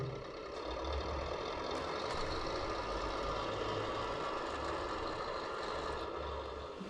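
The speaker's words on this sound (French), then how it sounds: "J'avance mon tracteur" A Tamiya Scania 770S V8 8x4/4 radio-controlled tractor unit drives forward, its simulated engine sound running as a steady, continuous electronic drone at moderate volume throughout, with no voices.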